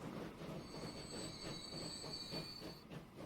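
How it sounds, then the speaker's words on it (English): Trains roll into a station in the rail game Transport Fever, wheels squealing in a thin sustained whine over a faint, steady rumble of rolling stock. "it sounds like they're all coming into the station now."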